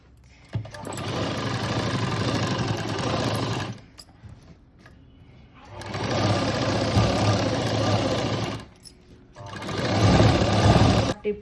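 Sewing machine stitching a blouse sleeve for Aari work, three runs of steady fast mechanical whirring separated by short pauses, close and fairly loud.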